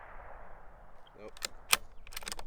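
A Bergara BMR .22 WMR rifle fires a single sharp, fairly quiet shot at an outdoor target in windy conditions, with a couple of fainter transient cracks around it over steady wind noise.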